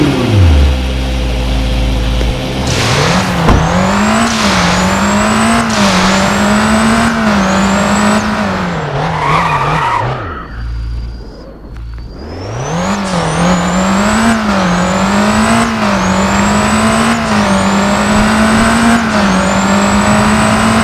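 A Temerario supercar driving in the video game Driving Empire, its loud engine revving up through repeated gear shifts with rising whines, briefly dropping off before accelerating hard again, no talking.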